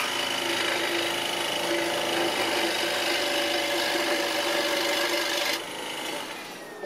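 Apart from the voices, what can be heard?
hand sawing a wooden slice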